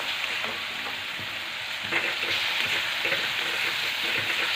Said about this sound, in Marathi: हिरव्या मिरचीचा कच्चापणा येईपर्यंत आपण आता ही मिरची ना तेलामध्ये मस्त असे एकसारखे हलवत परतून घेणार आहे